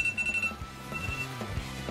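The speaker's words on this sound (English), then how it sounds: "Freaking iPhone alarm!" An iPhone alarm rings with a repeating thin electronic tone that comes in short bursts. It plays under busy game sound and low rumbling noises.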